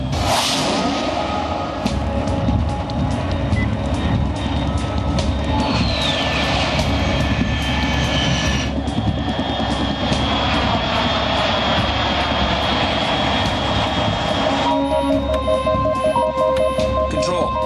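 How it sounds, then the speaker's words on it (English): Aircraft flying overhead in Metal Gear Solid 3, a loud sustained engine roar with whining jet tones and a whooshing sweep, continuous throughout with music-like tones layered in. "Unidentified aircraft detected."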